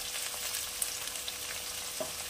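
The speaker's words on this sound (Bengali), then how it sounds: "এখানে সবজিগুলো অনেকটাই ভাজা ভাজা হয়ে এসছে" Vegetables fry in a pan with a dense, continuous close sizzle, a few light utensil taps popping through the hiss.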